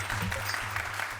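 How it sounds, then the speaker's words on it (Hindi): Applause from a group gathered at a housing society meeting in a sitcom scene: a steady, dense patter of clapping that fills the whole moment at moderate loudness, with no voices over it. "भाई तालियां"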